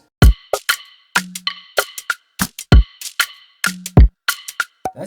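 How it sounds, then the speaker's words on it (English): Drum fills in a simple beat: sharp, close hits with deep kicks and bright cracking snares and toms, arranged in a quick, repeating syncopated pattern with short gaps between strikes. "the drums sound like this."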